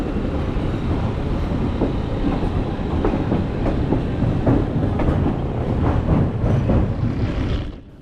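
Pakistan's Tezgam Express rumbles steadily along the rails through a sharp right bend, with a continuous roar and repeated clickety-clack wheel beats heard from on board. The sound fades at the very end.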